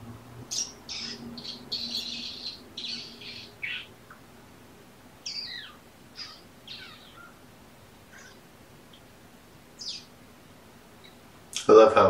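A person imitates little bird chirps to kittens, producing a series of short, high whistled squeaks in scattered bursts over a quiet room, with a louder sound at the end.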